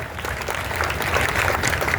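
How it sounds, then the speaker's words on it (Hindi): A large audience at a Rajput community Dussehra gathering in Rajasthan breaks into sustained applause, a dense, even wash of clapping that holds steady for the whole two seconds. "ताली बजाओ जोरदार एक बार"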